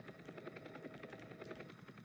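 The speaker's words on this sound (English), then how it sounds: "And then now, the helicopter is going to go." A helicopter flying away in the video game Entry Point, a faint, steady rotor chop with rhythmic beating over low engine drone, distant and with no voices.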